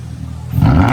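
A used car fresh from a custom shop revs its engine, a loud close roar swelling abruptly within a second.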